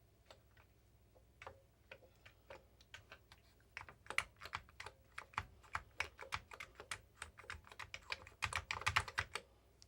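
Keys tapped on an Amiga 500 computer keyboard, with some keys failing while the arrow keys work: a steady run of sharp, close plastic clicks that starts sparse and grows into quicker, louder bursts of typing.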